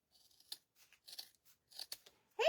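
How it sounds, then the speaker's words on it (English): Scissors snip through folded paper-like material from the bottom edge up to the fold, a series of quiet, close, crisp cuts in uneven rhythm with short pauses between them. "you're going to cut from the bottom outside edge up to the fold"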